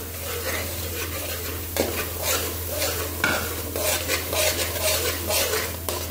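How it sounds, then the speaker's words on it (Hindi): Semolina roasts in ghee with cardamom seeds and husks in a pan, a steady crackling sizzle under continuous scraping stirs of a spoon, with occasional louder scrapes and clinks against the metal, close and fairly loud with no talking. "ये गोल्डन ब्राउन उठने तक मैं भूनती रहूंगी"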